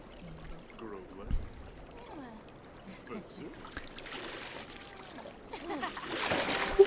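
Bubbling, gurgling jacuzzi water in The Sims 4 with small splashes, fairly quiet and growing busier toward the end, mixed with game sound effects.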